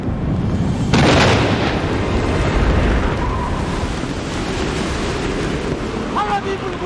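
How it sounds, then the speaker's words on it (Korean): Strong gale blowing in a Korean historical drama battle scene, a loud, rushing roar that surges after the first second and then carries on steadily, with some faint tonal sounds near the end. "강풍이 불고 있사옵니다."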